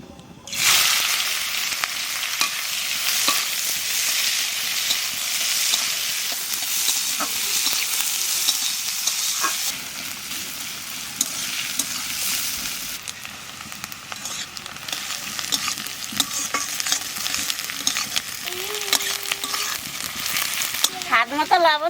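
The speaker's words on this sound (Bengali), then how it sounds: "পেঁয়াজ আর লঙ্কা একটু ভেজে নিচ্ছি" Onion and chili frying in a pan for an eggplant dish with mustard paste and duck eggs, a loud sustained sizzle with occasional scraping stirs throughout, easing slightly midway, and no speech.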